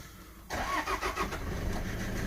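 Engine start on a car that has been overcharging with every warning light lit: a quiet lead-in, then the engine cranks and catches at about half a second and settles into a steady, close idle.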